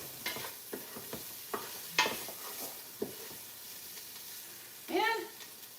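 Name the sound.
onions and garlic sizzling while cooking in a pan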